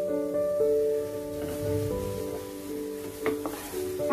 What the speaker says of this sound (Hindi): मसाला बहुत अच्छे से भुना जा चुका है। हम इसमें हल्का सा सॉल्ट ऐड करेंगे और इसे अच्छे से मिक्स कर लेंगे।